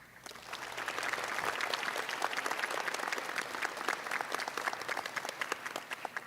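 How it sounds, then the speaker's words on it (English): A room full of people breaks into steady, sustained applause at a community college nursing pinning ceremony, dense clapping that swells quickly and holds evenly throughout. "Can we please get a quick round of applause to the special people that got us here today?"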